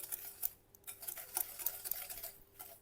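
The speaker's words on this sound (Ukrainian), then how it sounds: "Так, і це буду перемішувати." Sugar and a pinch of salt are stirred into soft butter in a bowl, a soft irregular scraping and tapping of a utensil close up, quiet with no speech.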